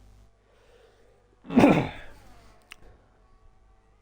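Racing commentator giving a single harsh, close throat-clear that lasts about half a second, followed by a faint short grunt, with quiet background otherwise and a brief word spoken.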